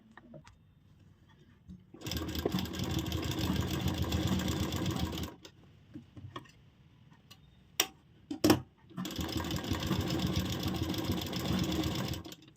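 Sewing machine stitching along the very edge of fabric while fitting a pocket zip, two sustained bursts of rapid stitching separated by a pause with a few sharp clicks and knocks, close and fairly loud.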